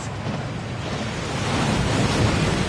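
A waterfall called Thief's Downfall in the video game Hogwarts Legacy, heard as a steady, dense rush of falling water that grows slightly louder, with no voices over it.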